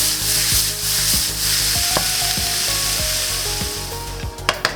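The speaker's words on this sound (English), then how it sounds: "Now I'm gonna add the pepper, sesame oil, soy sauce, sesame seeds, and now we're gonna cook it for 1 more minute" Brussels sprouts stir-fried with soy sauce, sesame oil, pepper and sesame seeds, a close, steady sizzle punctuated by rhythmic scraping tosses, ending in a few sharp clinks of utensil on pan.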